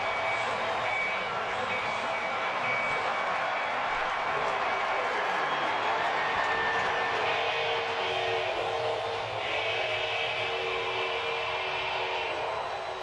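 A baseball stadium crowd roars at the World Series as the Astros host the Nationals, a sustained, dense wall of cheering that stays loud and steady throughout.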